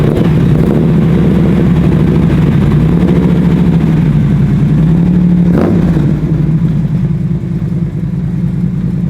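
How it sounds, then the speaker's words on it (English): A Corvette and a custom truck idle and rev together in a loud, steady low rumble with surging throttle blips, close up, and no voices. "why don't we fire up these bad boys and have a listen to the motors?"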